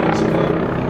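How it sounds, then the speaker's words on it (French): A German BO-105 helicopter in Red Bull livery flying at the La Ferté-Alais air show in 2015, its rotor and turbine making a steady loud drone that holds level and continuous throughout. "L'hélicoptère est un BO-105,"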